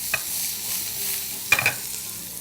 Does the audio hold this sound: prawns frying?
yes